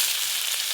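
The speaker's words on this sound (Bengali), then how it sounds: "এদিকে তেল গরম হয়ে গেছে, গরম তেলে একটু গোটা জিরে ফোড়ন করে নেব" Whole cumin seeds tempering in hot oil give a steady, close sizzle with bright crackling, continuous and without talk.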